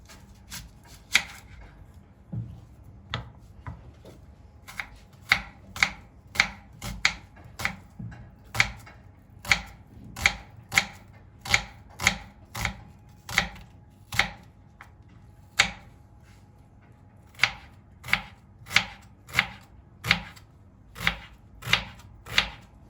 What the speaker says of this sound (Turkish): Şimdi soğanımızı doğramakla başlıyoruz.